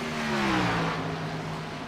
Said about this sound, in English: We have definitely been observing a motor race at this venue.